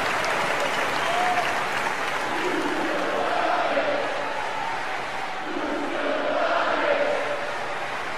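Arena crowd applauding in the WWE 2K18 wrestling video game, set in LA, a sustained loud wash of clapping and cheering that swells and dips, with a commentator's voice running over it.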